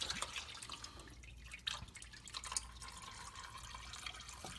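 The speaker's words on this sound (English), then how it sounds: "let's let that drip" Motor oil drips from the oil pan of a 1996 Buick 3800 engine, a soft, irregular patter against steady garage background noise, with a couple of slightly louder drops partway through.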